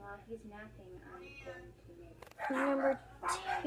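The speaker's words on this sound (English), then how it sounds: "sorry for the dogs." Dogs bark and whine indoors in the background, with a couple of loud barking bursts near the end, under a young speaker talking.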